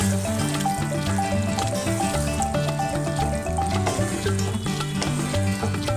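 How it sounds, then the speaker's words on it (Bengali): Masala frying in a pan as a little bowl-rinsing water from the marinade goes in, giving a loud, continuous, dense sizzle that stays steady throughout. "সামান্য কিন্তু বাটি ধোয়া জলটা দিয়ে দিলাম, যাতে মশলাটা কষাতে গিয়ে পুড়ে না যায়।"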